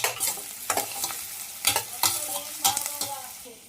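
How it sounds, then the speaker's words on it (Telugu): Cumin seeds fry in a pan and are stirred. Repeated scraping strokes come every half second or so over a light sizzle that fades near the end. "కొంచెం జీలకర్ర కూడా వేసుకున్నాం. మొత్తం బాగా వేగేంత వరకు వేసుకున్నాం."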